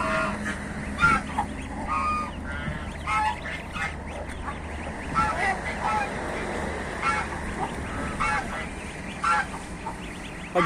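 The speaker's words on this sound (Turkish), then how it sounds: "Kaz." Geese honk repeatedly in an outdoor flock, with goslings present, making a busy, overlapping series of loud calls with irregular rhythm and a low background murmur.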